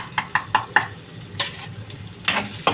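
Onion drops into hot oil already seasoned with turmeric, ginger, garlic and green chillies for a chicken liver fry curry. A few quick scraping stirs and short sizzling bursts follow, heard close up with no voices.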